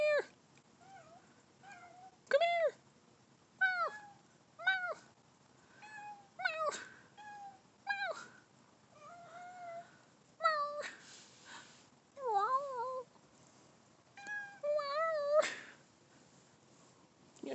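A cat meows over and over late at night near a house, with short and drawn-out, rising and falling cries coming every second or two, fairly close and alone in quiet surroundings.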